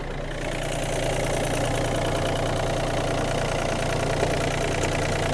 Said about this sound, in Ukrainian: Чиста робота двигуна